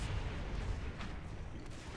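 Continuous booming grenade explosions in Natural Selection 2 during a competitive match, dense low rumble with a few sharper bursts layered throughout, loud and sustained.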